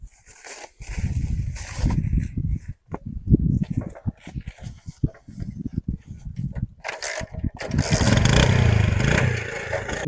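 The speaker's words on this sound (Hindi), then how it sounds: "बेली मोटरसाइकिल दाब ले गया" A motorcycle engine revs in bursts, then the bike rides off with a rising roar, loud and close, while clattering and scraping noises and some voices are heard nearby.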